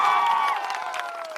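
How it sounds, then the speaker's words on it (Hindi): Dense crowd noise at an open-air political rally in Barari, Katihar district, Bihar, with cheering and scattered clapping swelling together, loud and close, fading slightly as it continues. "ताली अब बजा लो, ताली जिसको जितना बजाना है।"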